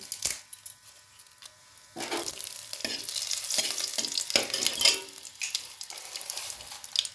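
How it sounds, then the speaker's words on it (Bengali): Dried chilies and bay leaves sizzle in hot oil with whole cumin for a vegetarian khichuri, while a spoon stirs and scrapes the pan in close, uneven bursts of crackling. "শুকনো লঙ্কা দিয়েছি, তেজপাতা দিচ্ছি,"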